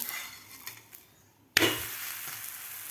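Sprouted mung bean thalipeeth flipped in a hot pan: quiet stirring and light scraping, then a sudden loud burst of sizzling that stays steady and close as the flatbread frying continues.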